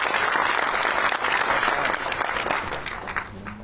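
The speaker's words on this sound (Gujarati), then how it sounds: "જોરદાર તાળીઓથી બિરદાવો." Loud, sustained applause from a large audience at an Akhil Bharatiya Koli Samaj community gathering in Gandhinagar, dense clapping that holds steady before gradually thinning toward the end.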